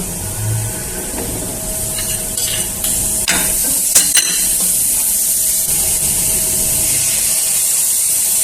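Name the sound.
green chili paste and cinnamon frying in a pan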